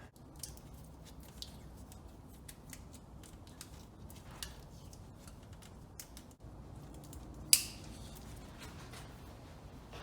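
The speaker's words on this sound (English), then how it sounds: "You know it's cold when electrical tape snips like that." Cold electrical tape is snipped with scissors during wiring work on a 1996 Subaru, giving small crisp cuts and faint rustles against a low background hum, with one sharper snip standing out near the end, close up.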